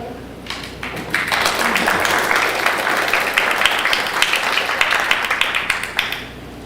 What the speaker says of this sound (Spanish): Recibimos con un fuerte aplauso al autor.